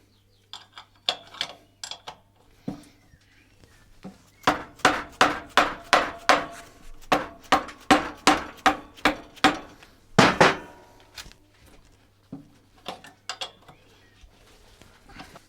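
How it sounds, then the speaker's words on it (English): Sharp metallic hammer blows strike a spanner to free a seized bolt on a bracket during a cafe racer motorcycle teardown, a quick run of about a dozen evenly spaced loud clanks with scattered lighter taps before and after. "So it's good for doing things like this when you're trying to beat down on a spanner."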